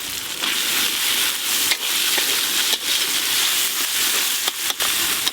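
Chopped tomato with green chili, cumin and dry red chili paste sizzles loudly and steadily in a pan, with occasional scrapes from stirring and no one talking.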